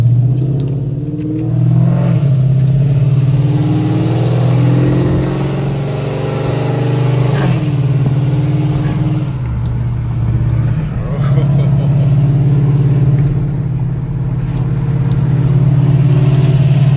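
A car engine with its current exhaust idles and rises in a few mid-pitched revs, steady and close throughout, under someone talking.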